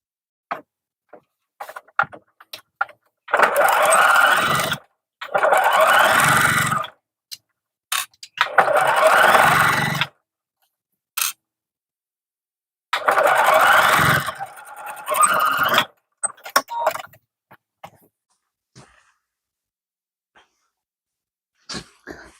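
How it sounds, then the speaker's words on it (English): A sewing machine stitches across fabric for a tote bag in several separate runs of a few seconds each. Each run is a close, steady whir, and the gaps between runs are near silent. "And we're going to sew right across there."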